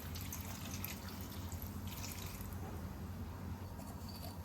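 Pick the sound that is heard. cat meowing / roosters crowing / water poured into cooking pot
water poured into cooking pot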